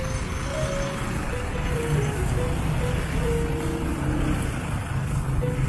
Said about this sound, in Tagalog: Maingay dyan yung mga sasakyan.